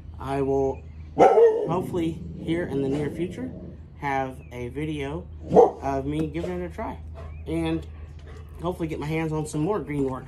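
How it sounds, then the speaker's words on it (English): Dogs bark in short bursts in the background while someone talks steadily in the foreground over a low hum. "Like I said, sorry about the dogs."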